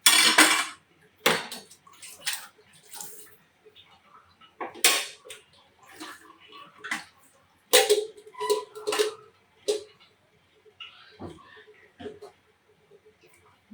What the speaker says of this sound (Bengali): ঢাকনা দিয়ে দেবো মাছটা